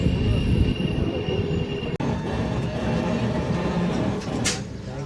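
Pinakini Express with LHB coaches pulling out of Singarayakonda railway station, a steady loud rumble of wheels and carriages with a sharp squeal near the end.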